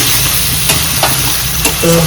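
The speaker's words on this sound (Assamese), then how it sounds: "ইয়াতকৈ আকৌ 15 মিনিটমান ফ্ৰাই কৰিম পিঁয়াজখিনি" Onions frying dry in a pan for a duck fry, a steady close sizzle with occasional scraping stir clicks and a low hum beneath.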